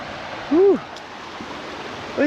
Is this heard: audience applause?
no